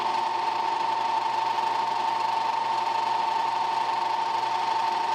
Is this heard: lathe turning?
yes